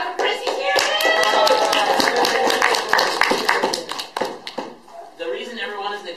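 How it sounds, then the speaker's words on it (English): A meeting audience applauds together, a dense steady patter of many hands clapping at moderate loudness that thins out toward the end, with voices mixed in underneath. "Everybody clap for Chris."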